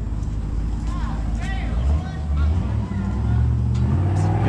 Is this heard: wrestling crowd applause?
no